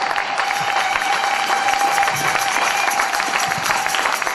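A church congregation cheers and claps in praise of the Lord, a dense, steady wash of applause and shouts filling the space without pause, with a faint voice threaded beneath the noise.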